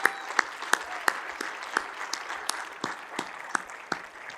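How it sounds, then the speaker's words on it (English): An outdoor crowd applauds the Cushing Academy class of 2021 at commencement, a soft, distant wash of clapping with sharper single claps standing out in an uneven rhythm, no speech over it. "Let's give them a round of applause"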